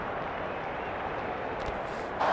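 A stadium crowd in the AFL 23 football video game roars as a steady, dense wash of noise, with faint clapping and a brief swell near the end.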